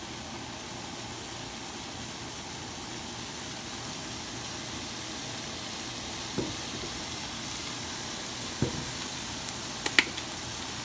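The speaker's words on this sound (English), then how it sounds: "I'm just going to sear it on top so that it'll be brown" Beef sears in a hot pan ahead of going into a crockpot stew, giving a steady soft sizzle with a few faint clicks and scrapes near the end.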